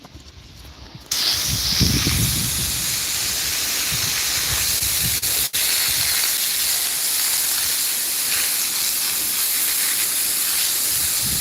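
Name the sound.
garden hose spraying water out of a hole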